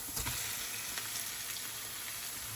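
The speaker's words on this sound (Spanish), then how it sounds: "cuando ya está casi hecho, pues le añado la carne picada de ternera" Ground beef frying with spices in a pan, a steady close sizzle with a crackling hiss running throughout and no voices.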